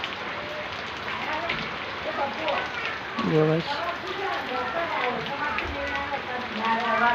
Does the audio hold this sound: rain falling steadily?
yes